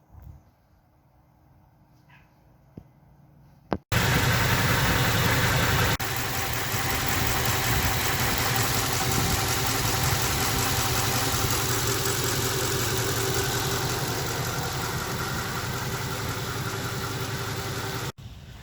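Mercedes E500 with a 5.0 V8 running at idle while raised on stands, a steady loud engine drone that starts abruptly after a quiet lead-in and holds for the rest of the clip.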